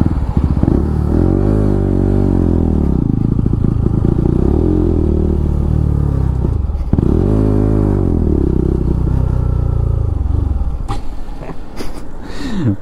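A Bajaj Pulsar RS 200 BS6 motorcycle engine pulls hard at full throttle, loud and close, rising in pitch through gears with a brief dip midway before winding up again.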